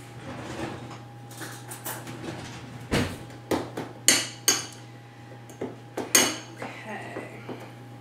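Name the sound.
mixing cashew cheese with rosemary in a bowl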